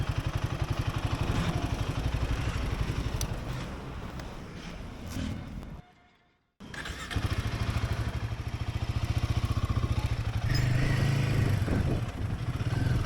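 Motorcycle starting out again on the road toward Guwahati, with a steady close engine drone and wind rush, then a sudden brief drop to near silence before the engine note resumes and grows stronger.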